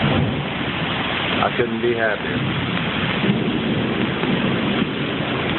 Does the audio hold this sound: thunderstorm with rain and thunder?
yes